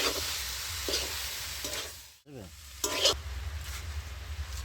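Mixed vegetables frying with masala in a pan, a close sizzle broken by several rhythmic stirring scrapes and a brief dip in the middle, with no voices.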